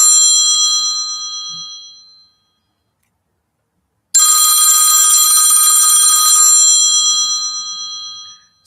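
A telephone rings loudly and close by in two long electronic bursts, each fading out, with about two seconds of silence between them.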